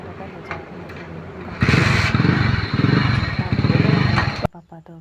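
A motorcycle engine starts and revs up loudly, holding a steady running drone for a few seconds before it cuts off abruptly.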